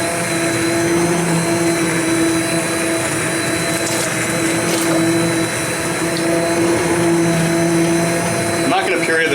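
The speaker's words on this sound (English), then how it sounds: "I'm gonna take my hand mixer and I'm gonna start mixing away" A hand mixer blends roasted potato and leek soup, giving a loud, continuous motor whir with a steady tonal hum that runs throughout before a brief clatter near the end.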